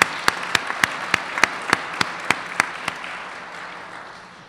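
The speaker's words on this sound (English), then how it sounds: "So let's give them a round of applause" Audience applause at a Hall of Fame induction ceremony: a steady run of sharp, evenly spaced claps rings out close by over a softer crowd wash, thinning and fading toward the end.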